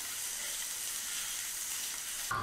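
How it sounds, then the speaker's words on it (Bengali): Onion and garlic fry in oil, a soft, steady, close sizzle that holds evenly, with a brief clank near the end. "এখন পেঁয়াজ রসুনগুলো লাল করে ভেজে নিব।"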